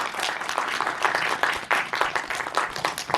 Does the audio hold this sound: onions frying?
no